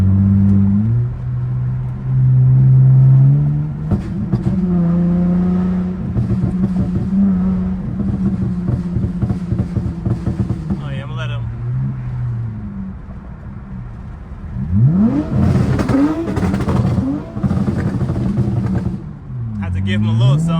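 A pickup truck's Ford Coyote V8 engine burbles and revs in several bursts, deep and throaty, with people talking over it.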